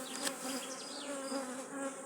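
Swarming honeybees buzz around close by, landing on hands after the queen is taken, a dense, steady droning hum with several insects circling near the listener.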